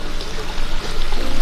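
Clean water pours steadily from the blue pipe of an aquaponics system after passing through the filters, a close, loud continuous gush with slight surges.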